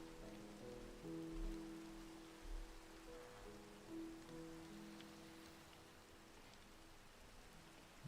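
Steady rain falling in a Minecraft world, a continuous soft hiss with scattered droplet patter, moderately quiet and alone without talk.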